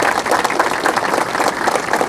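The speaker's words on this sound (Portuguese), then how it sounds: "Então é um dia de aplauso. Vamos aplaudir?" Audience applause at a ceremony marking the 1932 Revolution in Presidente Prudente, dense steady clapping from a crowd, continuous and fairly loud throughout.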